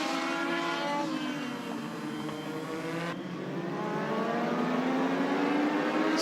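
Race cars roaring away on the green flag at a Thursday Thunder short-track event, engines revving and climbing in pitch as the pack accelerates across the start line, loud and continuous with no talk.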